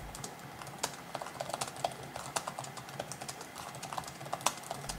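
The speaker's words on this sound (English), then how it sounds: "I definitely prefer this keyboard over the MacBooks, and it feels just as comfortable and fast to type on as on a Microsoft Surface laptop keyboard." Fingers type steadily on the keyboard of a 14-inch Samsung Galaxy Book 4 Edge laptop, producing a close, quiet run of light key clicks with irregular rhythm and no speech.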